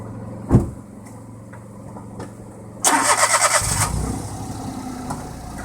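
A car engine cranks and catches, settling into a steady mid-pitched idle before driving off, with a few soft thumps from inside the vehicle just before it starts.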